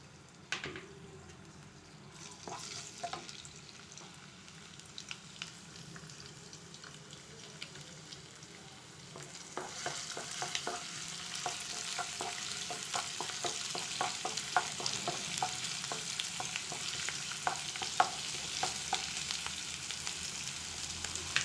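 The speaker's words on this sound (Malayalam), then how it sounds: "എണ്ണ ചൂടാകുമ്പോൾ അതിലേക്ക് നമുക്ക് ഇഞ്ചി വെളുത്തുള്ളി" Ginger and garlic dropped into hot oil for a vegetable curry, a quiet pan that breaks into a steady, brighter crackling sizzle about halfway through, with occasional clicks and no talking.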